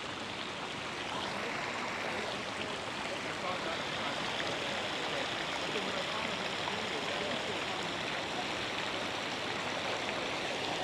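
Water rushes continuously around a fountain along a waterfront walkway in Cairns, Australia, a loud, even wash of splashing that holds steady from start to finish.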